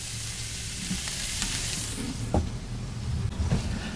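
Pork chops brined in molasses and cinnamon sear in a hot pan with a close, steady sizzle and crackle, with a few clinks and scrapes as they are handled.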